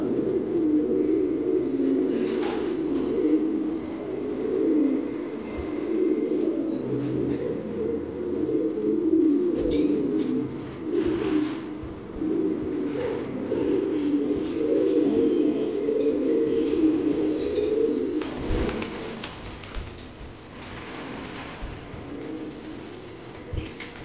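Many king pigeons coo continuously at close range on a large fancy pigeon farm, a low rolling murmur with occasional faint higher chirps and brief rustles.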